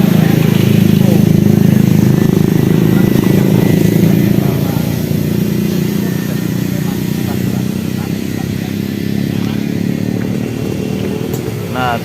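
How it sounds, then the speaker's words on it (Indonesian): Trucks grinding uphill on a rough gravel mountain road in a disaster area, engines droning loud and continuous, the heaviest roar at the start and then easing slightly, with someone talking over the noise. "Lihat ini, banyak truk yang naik ke atas."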